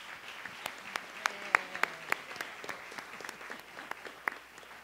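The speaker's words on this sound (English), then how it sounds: "If we can give them an applause." Applause for a panel at a Western Massachusetts health equity summit, a modest group clapping with distinct sharp claps popping out over a thin, fairly quiet wash, sustained for several seconds.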